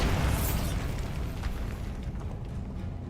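A Bombarda blasting spell detonating in Hogwarts Legacy, a loud booming explosion with a heavy low rumble that decays into a crackling, debris-filled tail over about three seconds.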